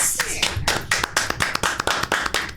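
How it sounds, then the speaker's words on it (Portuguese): A small studio group claps to welcome a podcast guest, with distinct, rhythmic handclaps in quick succession and a few voices murmuring underneath. "Salva de palmas!"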